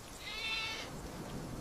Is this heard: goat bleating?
yes